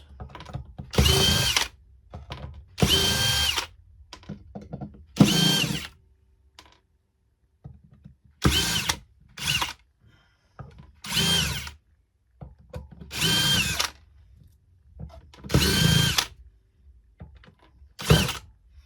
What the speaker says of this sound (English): A good compromise drill bit. It seems to work on the kind.